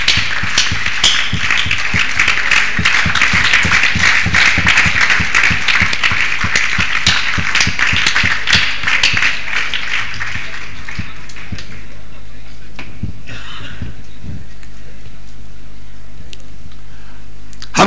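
A standing audience in an assembly hall claps loudly and rapidly for around ten seconds, then the applause dies away into quiet room noise with scattered faint sounds.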